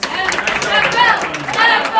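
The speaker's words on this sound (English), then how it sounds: "Go ahead and clap" An audience at a quiz-style Latin certamen competition claps briefly after a score check, a short loose patter of hands mixed with chatter and voices.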